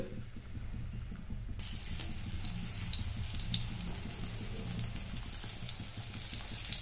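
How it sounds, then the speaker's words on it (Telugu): Raw banana slices coated in paste fry in oil over a medium flame, a quiet start giving way to a steady, bright crackling sizzle close up, with no talking. "ఇగోండి, ఇలాగే అన్ని ముక్కల్ని మనం ఫ్రై చేసుకోవాలి"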